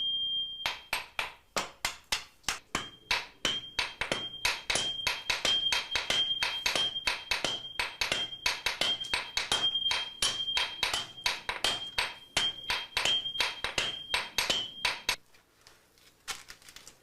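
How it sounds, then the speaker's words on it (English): A swordsmith's hammer forges a Japanese katana in a rapid, steady series of sharp metallic strikes, each ringing briefly, close and loud for about fifteen seconds before stopping. "The commands of the swordsmith's hammer is all that is required."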